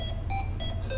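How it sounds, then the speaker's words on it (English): A GlowCap internet-connected pill cap plays a ringtone: bright electronic beeps pulse in a steady rhythm, close and clear over a low background hum. "If he doesn't see this light for some reason, the glow cap plays a ringtone,"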